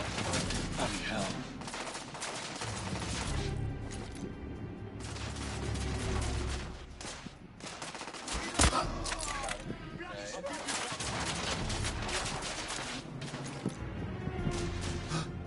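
Gunfire from The Order 1886 shooter game: repeated rapid bursts and volleys with crashes, sustained and fairly loud, with someone talking over the action.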